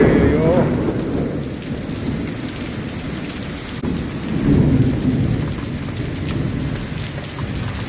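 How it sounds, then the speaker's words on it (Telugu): Heavy thunderstorm rain pours steadily and loudly, with low rumbles of thunder swelling and fading beneath the downpour; no voices. "ఉరుములు మెరుపులతో"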